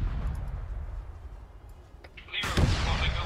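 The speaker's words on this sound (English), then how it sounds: "There's another bomb." A bomb bursts in a World War II firefight in Greece in the Iron Front game: a sudden loud blast arrives after quieter battle rumble, followed by a sustained rolling roar.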